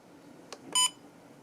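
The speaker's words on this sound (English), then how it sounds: "I'll leave the beep on just for now." An Apeman trail camera gives a short, sharp electronic beep right after a faint click, close and quiet, with no one speaking.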